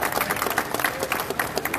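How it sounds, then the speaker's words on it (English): Audience at a drag racing trade-show booth clapping for a person named Keith, brief dense applause from a crowd at moderate loudness. "I think we all owe Keith a round of applause here for getting this thing going"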